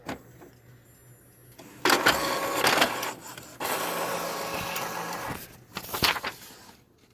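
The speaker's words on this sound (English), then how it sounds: "Print. Let's see if it comes out right." An Epson EcoTank 2803 inkjet printer printing a page, with bursts of mechanical whirring and paper-feed clatter, pauses between passes, and a final rattling push near the end, close and fairly loud.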